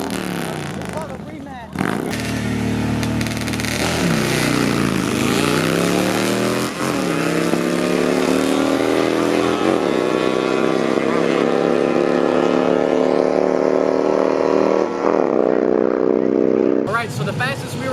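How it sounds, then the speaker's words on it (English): A two-stroke minibike races a Harley-Davidson at a dragstrip, its high, buzzing engine climbing steadily in pitch through several gear changes over a long run, loud and close throughout. "So I was gonna race the sports bike, but last minute they let me rematch the Harley."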